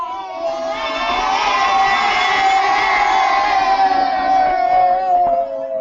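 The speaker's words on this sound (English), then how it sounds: "Give me a wave and a cheer in your classrooms" Schoolchildren cheer together in their classrooms, a loud sustained crowd of young voices shouting and whooping for several seconds before trailing off.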